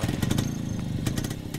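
A motorcycle engine runs steadily in a Hindi-dubbed South Indian romantic film, with a continuous low throbbing rumble and a few sharp clattering ticks over it, fairly close and with no voices.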